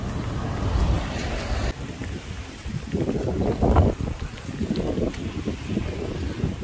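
Strong wind in New Zealand buffets the microphone with a steady, heavy low rumble that surges and dips throughout, with no voices.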